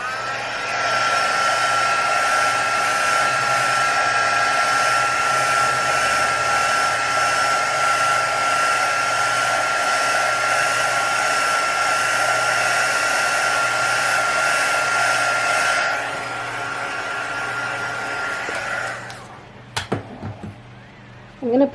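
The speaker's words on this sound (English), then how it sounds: "So I'm just going to heat this up right now and we'll see how it looks." Steady, loud whirring hum of a heat gun warming epoxy on an alcohol ink tumbler, running continuously for about sixteen seconds before it shuts off and a few clunks and handling noises follow.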